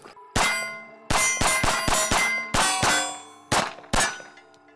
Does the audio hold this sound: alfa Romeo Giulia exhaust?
no